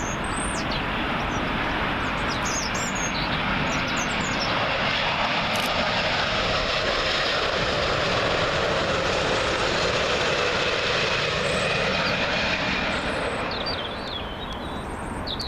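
A Virgin Atlantic Airbus A350 arriving from JFK on runway 27L at Heathrow, its broad jet engine roar loud and sustained throughout, sweeping slightly as it passes close by, with no talk over it.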